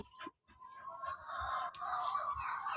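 Chickens at a family home, including laying hens, cluck and call faintly in the background of a quiet outdoor setting, with a rooster-like crow rising toward the end.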